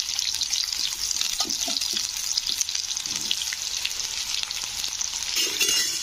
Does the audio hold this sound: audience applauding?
no